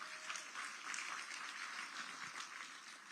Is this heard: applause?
yes